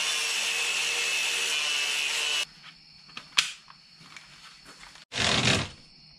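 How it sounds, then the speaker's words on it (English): A power tool cuts through the metal of a car seat frame for a bucket seat install, starting as a steady grinding roar, then stopping for small clanks and handling noise before a short final burst of cutting. "I'm gonna have to just cut it right there and right there and just lop this whole piece off"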